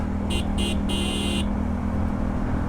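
An intercity bus on the Dhaka–Mymensingh road blasts its horn in three quick honks, the last one held longer, loud and close over a constant rumble of road traffic.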